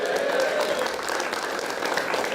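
A crowd at a FlipTop rap battle cheers and applauds in a steady, dense wash of clapping that holds at even loudness throughout.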